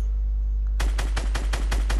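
Rapid gunfire from a weapon in the Fortnite video game, a quick rhythmic string of about six loud shots after a brief quiet lead-in of game ambience.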